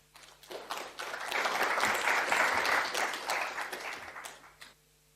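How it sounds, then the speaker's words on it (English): An audience at a talk on the diagnostic and statistical manual of mental disorders breaks into dense, sustained applause that swells after a few scattered claps, holds steady for several seconds, then tapers off. "You clap now because I'm not sure you will at the end."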